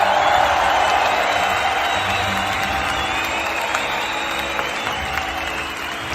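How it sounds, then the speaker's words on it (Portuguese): A large crowd bursts into sustained applause mixed with cheers and a few whoops, a broad, even roar of clapping that holds steady and eases slightly toward the end, with no talking. "palmas para os nossos heróis"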